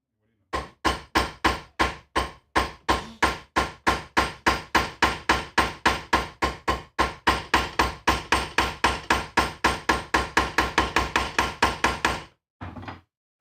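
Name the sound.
hammering rivets into a leather armor cuirass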